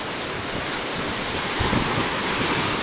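Huge ocean waves crash against the shore in a loud, continuous roar of surf, thickened by heavy wind buffeting the microphone, with a fresh surge of breaking water near the end.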